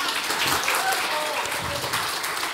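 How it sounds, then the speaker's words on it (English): A church congregation breaks into applause, a dense wash of clapping that stays steady and moderately loud for a couple of seconds, with faint murmuring mixed in. "If we're going to clap, we clap."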